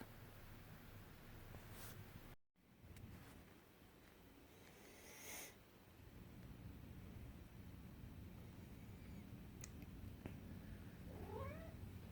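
Cats meowing and caterwauling indoors in springtime, a faint muffled yowl early on, later a few rising meows near the end, all quiet over a steady background hiss.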